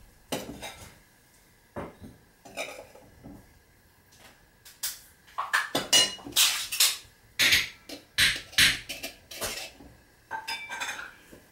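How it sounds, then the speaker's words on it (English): Leveling a heaped cup of flour with a knife while baking a cake: a run of close, sharp metallic clinks and taps of knife against cup, scattered at first and then clustered in quick bursts, with no voices. "Heap it up and then level off with a knife."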